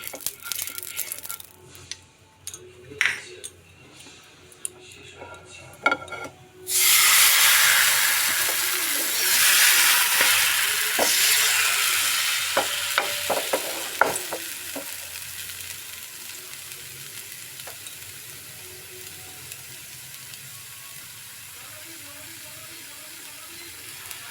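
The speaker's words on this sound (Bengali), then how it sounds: "ফ্রাই প্যানটা গরম হয়ে গেছে এবার আমি একটু ঘি ব্রাশ করে নিচ্ছি" Ghee brushed onto a hot frying pan for patishapta pitha bursts into a loud sizzle after a few quiet clinks, then the hissing slowly fades, with scattered scrapes and taps nearby.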